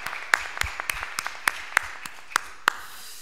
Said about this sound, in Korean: 우리의 예배를 받으신 삼위 하나님께 영광의 박수를 돌려드리겠습니다.